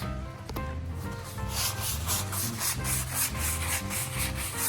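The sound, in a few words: scrubbing a dirty spot with a cleaning product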